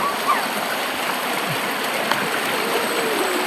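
Strong river current rushing steadily close by, a dense continuous roar of flowing water with no clear pauses, heard on its own.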